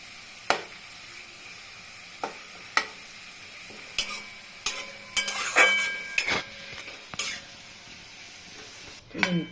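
Sliced onions fry in a pan toward crisp brown birista for an egg curry, giving a soft, steady sizzle broken by separate clinks and scrapes as a spatula stirs them against the pan.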